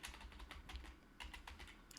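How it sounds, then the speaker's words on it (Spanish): Quick, light keystrokes on a computer keyboard as a file name is entered, soft clicks in short irregular bursts, close and quiet with no voices. "vamos a escribir el nombre del archivo tal cual"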